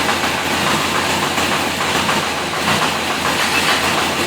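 Kawasaki ZX-14 motorcycle engine running close and loud, a dense, steady rumble that holds at a constant level throughout, with no distinct rev peaks.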